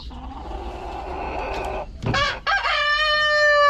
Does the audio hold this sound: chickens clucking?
yes